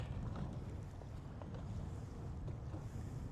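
Strong wind on a lake during walleye fishing from a boat: a steady low rumble of wind buffeting close by with faint water sounds, continuous and without talk.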